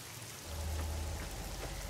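Rain falling in Fallout: New Vegas, a continuous soft hiss of steady rainfall with a low rumble swelling in partway through, fairly quiet and alone with no voices.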